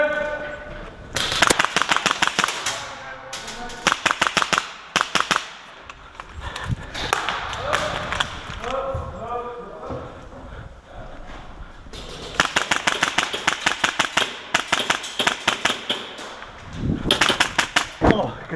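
Airsoft guns firing during an airsoft game, rapid bursts of close, loud clicking shots in repeated volleys, with players calling out between bursts.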